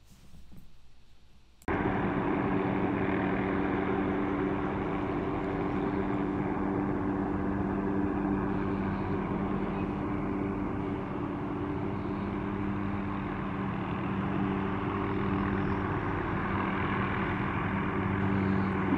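A helicopter carrying a suspended saw rig flies overhead, its steady droning engine and rotor noise cutting in abruptly and holding loud and continuous, with no talk.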